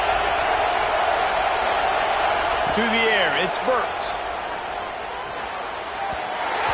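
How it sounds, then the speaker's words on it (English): Stadium crowd noise in the College Football 26 video game, a steady loud roar filling the whole clip beneath a play-by-play commentator calling a pass. "This crowd bringing the energy and noise early."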